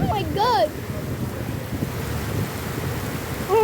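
Floodwater rushing through Jeddah streets during extreme rainfall, a dense continuous roar with wind buffeting the microphone, and a person's excited voice briefly rising above it at the start and end.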